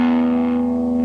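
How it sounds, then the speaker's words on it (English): A distorted electric guitar through a VOX Cambridge 15 practice amp, gain turned all the way up at low volume, rings out as a single sustained, buzzing note, loud and steady without talk. "you can still get that awesome VOX distorted tone"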